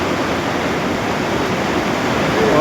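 A river rushes loudly through a remote Kashmir valley near Taobut after rain, making a steady, roaring wash of water that fills everything, close and unbroken, with no voices.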